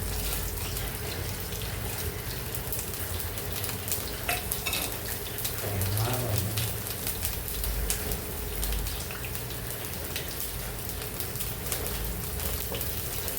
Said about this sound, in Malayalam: അരി നല്ലൊന്ന് പൊട്ടി വരട്ടെ.